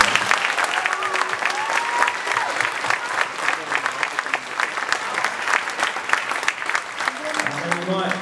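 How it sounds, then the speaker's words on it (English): An audience at a Year 6 school graduation claps in a sustained, dense round of applause with scattered cheers, loud and close throughout. "one more great big round of applause"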